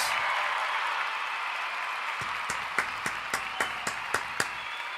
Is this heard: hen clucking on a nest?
no